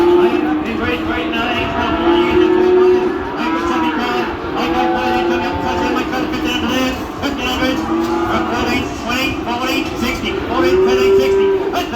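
Cattle moo repeatedly at a weaner cattle sale, with many overlapping drawn-out calls from a crowded pen over a constant busy saleyard background.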